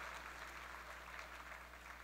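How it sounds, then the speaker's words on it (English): Faint clapping from a dinner audience at the Tucson Festival of Books Author's Table Dinner, a short, steady round of applause heard from a distance. "worth another round of applause"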